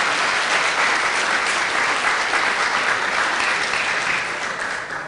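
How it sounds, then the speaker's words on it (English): Audience at a board meeting gathering claps for itself, a full, even round of applause from many people that stays strong before easing off slightly toward the end. "ask you guys to give yourselves a round of applause"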